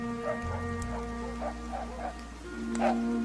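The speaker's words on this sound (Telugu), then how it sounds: "కుక్కలు మరుగుతాన్నాయి" Several dogs barking in scattered bursts at a distance, over a steady electrical hum and low background drone.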